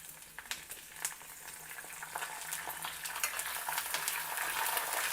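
Green chillies and curry leaves fry in hot tempering oil for a festival offering, a soft steady sizzle with crackling pops and occasional stirring clicks, close and faint, with no talking.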